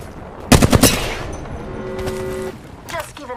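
Automatic weapon gunfire in an Apex Legends arena match: a sharp, loud burst of rapid shots close by, then a few fainter scattered shots and a short electronic tone, with no talking.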